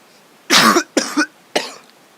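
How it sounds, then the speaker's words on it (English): Three distinct coughs from a single person, close and loud, the first long and harsh, followed by two shorter ones spaced evenly apart. "I'm getting a little cough."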